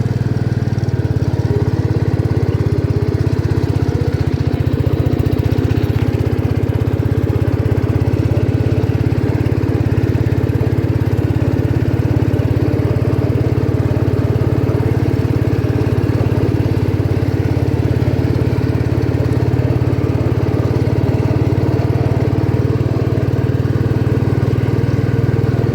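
A 1972 John Deere 110 lawn tractor, long stored in a barn, runs steadily with a loud, continuous low engine drone that holds an even pitch from start to finish and has no voices over it.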